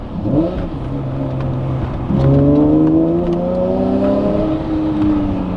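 A Honda NSX sports car engine revs hard as it drives, the pitch climbing steadily through the gears with a loud, sustained mechanical roar.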